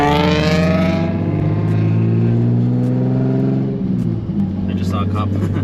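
A turbocharged Nissan 350Z engine pulls hard under acceleration from inside the car, a loud sustained drone whose pitch climbs steadily, then drops at a shift and climbs again.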